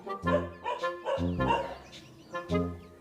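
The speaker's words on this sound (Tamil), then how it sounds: "நாயெல்லாம் ரொம்ப இருக்கு." Several dogs barking outdoors, a run of loud bow-wow barks and yips in quick uneven succession close by.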